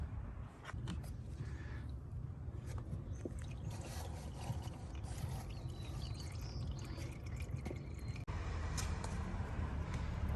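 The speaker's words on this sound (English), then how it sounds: "get the drain tray under, get the oil out" Engine oil pouring from a 2017 Chrysler Pacifica into a drain tray, a steady faint trickling and splashing stream continuing throughout with a brief knock near the end.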